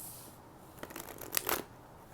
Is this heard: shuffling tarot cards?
yes